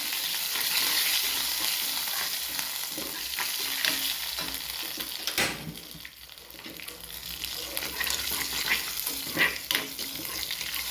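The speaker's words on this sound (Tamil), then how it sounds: "நல்லா வதக்கி விட்டுட்டு இந்த வதங்கிட்டோம்லாம்" Curry leaves and cumin sizzle loudly in hot oil in a pan for an idli kara chutney while a spoon stirs and scrapes through them, the frying hiss continuous and close with a brief dip midway.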